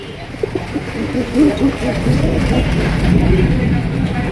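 Pigeons coo in soft, low, repeated calls close by, layered over a steady background murmur from a group of birds.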